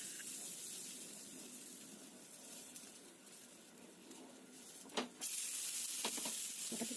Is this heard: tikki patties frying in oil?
yes